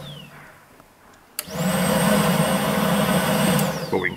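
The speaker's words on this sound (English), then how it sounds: "But we can clearly hear the pump running." On a Chevrolet Malibu, the secondary air injection pump kicks on abruptly after a quiet lead-in and runs as a loud, steady electric whine and whoosh, close by, then begins to wind down near the end.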